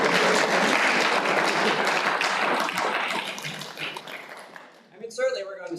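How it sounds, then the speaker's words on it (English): Students at a school decision day clap in a loud, dense round of applause that fades out, followed briefly by a voice speaking. "give yourselves a round of applause."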